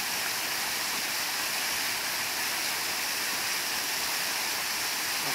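Steady, dense rush of a waterfall at Belle Isle, continuous and fairly loud throughout with no other sounds standing out.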